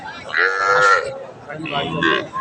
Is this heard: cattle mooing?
yes